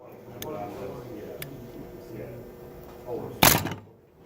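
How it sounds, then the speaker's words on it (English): A pneumatic ball shooter driven by two pancake cylinders fires and catches a ball, giving a sharp, loud thunk near the end, with a couple of lighter clicks earlier, while a voice talks in the background. "It uses two pancake cylinders to shoot the ball and catch the ball."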